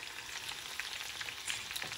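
Asafoetida dropped into hot tempering oil with curry leaves for tomato pickle, giving a steady, close crackling sizzle that runs evenly throughout with no voices.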